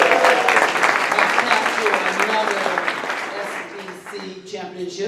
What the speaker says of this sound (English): give them one cheer.